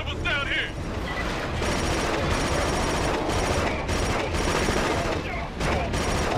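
Rapid gunfire and explosions in the Killzone 2 video game during a convoy defence, dense continuous automatic fire with shouted voices mixed in throughout.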